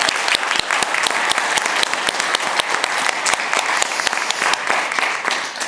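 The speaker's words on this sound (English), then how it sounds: "I'd like to give them all a round of applause for doing so well." Audience applause at a charity foundation event, dense and sustained clapping from a crowd that stays steady and fairly loud throughout, with no voices over it.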